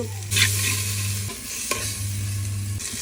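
Spices sizzling in hot coconut oil in a cooking pot with a constant frying hiss, a spoon scraping the pan once or twice, and a low hum cutting in and out.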